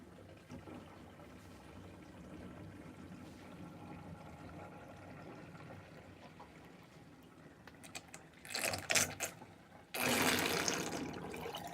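Hot water running into a household sink and draining, a low quiet gurgle at first that swells into louder rushing splashes and a steady gushing stream toward the end.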